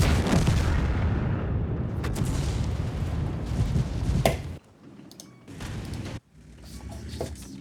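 Heavy tank cannon fire in World of Tanks: a dense, booming roar with rumbling blasts and mechanical clatter, loud at first, then thinning into separate thuds and a sharp cutoff.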